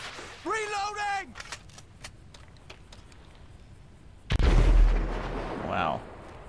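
Gunfire sounds in the video game GTA V with a police patrol mod: a voice calls out early, faint clicks follow, then one sudden heavy blast booms and rumbles before trailing off.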